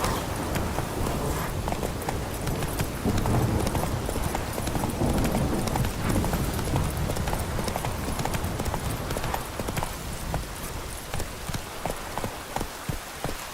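A horse gallops in The Witcher 3 video game, a fast, continuous clip-clop of hooves, loud and close and running steadily throughout with no pauses.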